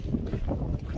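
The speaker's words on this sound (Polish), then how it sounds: "Wieje dosyć zimny wiatr." Steady cold wind rushes and buffets against the microphone on a high-altitude Everest Base Camp trek, a low continuous roar with no voices.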